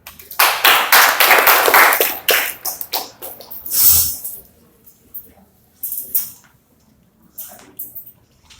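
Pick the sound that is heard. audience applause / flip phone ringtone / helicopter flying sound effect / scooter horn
audience applause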